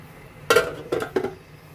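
A utensil knocks against a cooking pot of chicken adobo during stirring, giving three quick clinks over a faint background hum.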